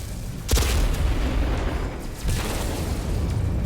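Torpedo salvo explosions in the video game No Man's Sky: two heavy, rumbling booms about two seconds apart, each with a deep roaring tail that keeps the sound loud and dense.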